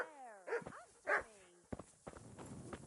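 Dog barking in the medieval role-playing game Kingdom Come: Deliverance: a few close, clear barks with whimpering tones, then scuffling footsteps and movement noise, with no talking.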